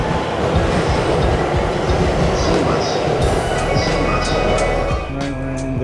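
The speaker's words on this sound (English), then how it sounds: "we're in the train station." A train moves through Shibuya station in Tokyo with steady loud rumbling and clattering wheels, high squeals and chimes above it, and the rumble eases toward the end.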